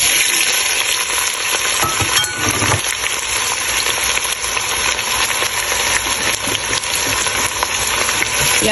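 Sliced onions frying in a cup of hot oil for mutton bhuna, a loud, steady sizzle with a few stirring knocks near the start, no voices.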